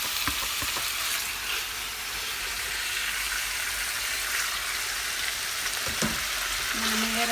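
Beef pieces go into a preheated pan and fry with a dense, continuous hiss and sizzle, broken by a few sharp clicks and scrapes near the start and end.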